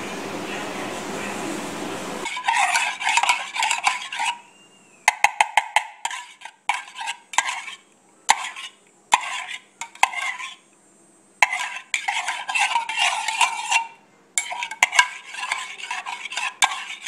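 A sanitized spoon stirs pumpkin ale wort in a brewing pot, knocking and scraping against the metal in uneven bursts with short pauses; a hiss of running liquid sounds at the very start.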